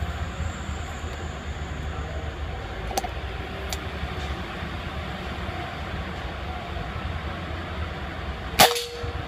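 An air rifle fires a Jawara GR12 pellet at a strip target: one sharp, close crack near the end, over a steady background hiss.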